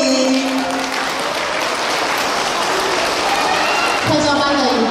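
An audience claps at a school special-education class performance of a cowboy dance number, a dense wash of applause filling the room while an announcer's voice carries over it.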